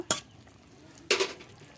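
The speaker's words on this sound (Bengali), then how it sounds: "এবার উচ্ছের তরকারিটা এবার এটা আমি নাড়িয়ে নেব আর অল্প একটু জাল করে নেব" A bitter gourd and eggplant curry gets stirred in a pan: two sharp scraping strokes about a second apart, each with a short clatter of utensil on metal, over a faint background and no voices.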